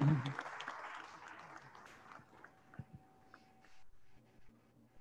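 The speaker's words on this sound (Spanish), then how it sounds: "un fuerte aplauso para la exposición de esta tarde" A short burst of audience applause after a talk at a panel event in Totonicapán, Guatemala, fades quickly, leaving faint scattered noises and quiet room sounds.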